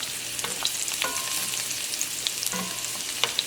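Chicken pieces browning in a hot pan, a steady soft sizzle with a few sharp pops and light scraping clicks, close but fairly quiet.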